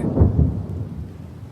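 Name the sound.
thunderstorm with rain sound effect in story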